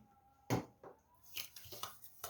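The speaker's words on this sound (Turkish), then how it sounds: "karıştırıyorum." A bowl of orange cookie mixture made with grated orange zest, orange juice and sugar is stirred by hand, giving a few soft scrapes and clinks with gaps between them, close by, with no talking.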